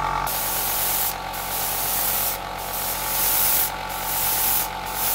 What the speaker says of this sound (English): So we've sprayed these 3 colours onto these 3 pieces.